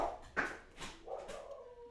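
A pet dog at home, a female, gives a few short, soft barks and whimpers close by, followed by a lingering whine, fairly quiet with no talking over it.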